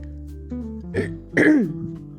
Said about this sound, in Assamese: মাজে মাজে কাহটো আহিও আছে